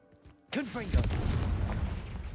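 Confringo fire spell in Hogwarts Legacy goes off with a sudden loud booming blast, a short burst of explosive impact followed by a rumbling, crackling tail that fades slowly, with faint game ambience before it.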